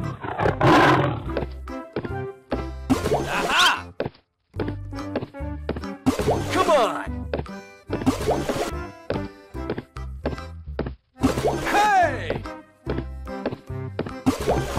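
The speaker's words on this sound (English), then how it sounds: "Tiger." A tiger roars again and again, deep loud growling bursts with brief pauses between them, close and filling the whole stretch with little else around.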